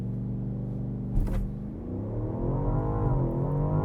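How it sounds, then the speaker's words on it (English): A 2025 BMW Alpina XB7 SUV accelerates at full throttle, heard from inside the cabin. A steady engine drone rises in pitch as it pulls, with a short thump partway through. "I'm just gonna floor it right now"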